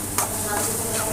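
Chicken masala being stirred and sautéed in a pan: a short burst of close sizzling with a sharp scrape of the spoon near the start, then continuous frying hiss.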